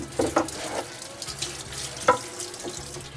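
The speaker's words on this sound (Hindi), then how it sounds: "ये सीख चूँकि मैंने आपको बताया गर्म हो गई थी, इसको थोड़ा सा पानी मार के ठंडा कर लें" Water from a tap splashed onto a hot metal kebab skewer in a home kitchen while making chello kabab, giving a few short splashing bursts over a running-water hiss, close and moderately loud, with no talking.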